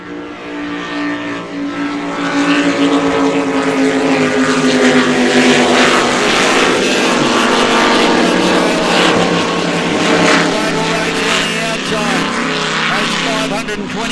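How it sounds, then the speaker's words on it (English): Superboats with 525 hp Mercruiser race engines roar during a race at Geelong, a loud sustained high-revving engine drone that swells and holds, with a commentator talking over it. "525 horsepower Mercruiser race engines, seen it run"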